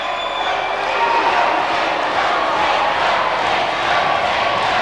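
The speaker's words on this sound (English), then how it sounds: "Well, the crowd love it." A large crowd roars and cheers after England's first goal at a 2000 hockey match, a dense, steady wall of distant cheering and noise that holds for the whole stretch.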